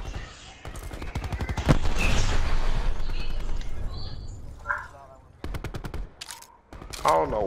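Rapid SMG bursts from an MX9 in a first-person shooter match, crackling in repeated volleys through most of the stretch with short pauses, loud and close, while players talk over the shooting.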